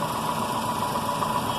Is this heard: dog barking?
no